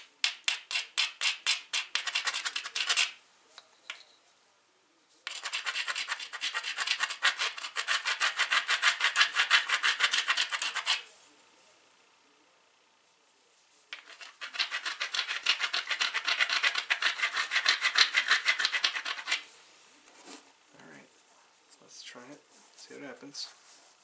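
Edge of a novaculite blade preform ground with an abrader: rapid scraping strokes in three bursts of a few seconds each, with pauses between and faint taps and handling after.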